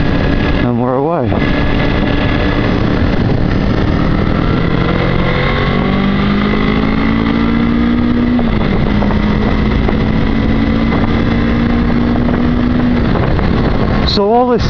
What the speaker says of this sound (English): Throttle down again, clutch in, and we're away.